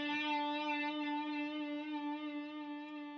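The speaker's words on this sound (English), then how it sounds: "You could have a slow, very deep vibrato." A single guitar note rings out alone, held for about three seconds with a slow, deep vibrato that makes its pitch waver in broad, unhurried swells.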